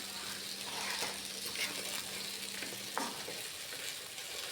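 Small sago cooks over a low flame with salt, giving a quiet, soft bubbling sizzle with light stirring scrapes and clinks, faint and steady over a few seconds.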